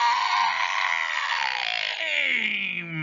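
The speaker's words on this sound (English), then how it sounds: "Marley opens his mouth and screams a ghostly," A ghostly, fearful scream rings out, a long, loud wailing cry that wavers and slowly slides downward in pitch over about three seconds, heard alone without talk.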